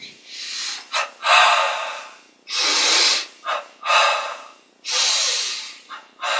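Deep, forceful breaths during a meditation and breathing exercise, heard close and alone: a steady series of long hissing inhales and exhales with a few short sharp snorts in between.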